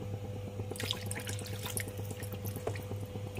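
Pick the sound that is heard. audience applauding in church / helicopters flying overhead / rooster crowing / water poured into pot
water poured into pot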